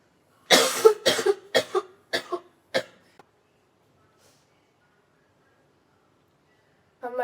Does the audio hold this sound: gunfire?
no